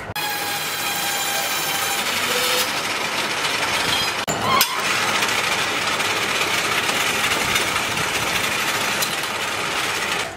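A pipe cutting machine for brass and other pipes runs steadily and loudly nearby, a continuous mechanical whine and hum with a brief knock partway through and no talk.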